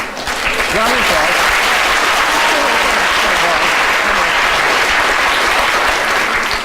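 A live audience at a magic demonstration breaks into a sustained round of applause, a loud, dense and continuous wash of clapping from many people that holds steady throughout.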